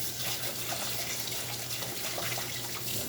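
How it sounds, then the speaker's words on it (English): A kitchen tap runs steadily while a spoon is rinsed under it, giving a continuous hissing, splashing water flow. The sound is close and even for the whole stretch, with no talk. "Rinse it off my spoon."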